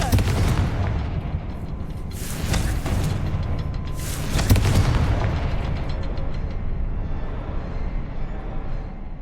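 Confringo blasting curse in the video game Hogwarts Legacy, several booming explosive bursts in close succession, loud and rumbling, with lingering crackle between hits.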